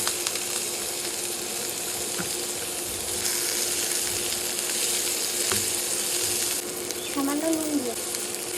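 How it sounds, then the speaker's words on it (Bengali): Chopped onion and tomato frying in mustard oil in a wok, a steady close sizzle running throughout with a faint stir or scrape near the end. "প্রথমে কড়াইয়ে সর্ষের তেল দিয়ে নেওয়ার পর সামান্য কালার পেঁয়াজ কুচি দিয়ে দেবো"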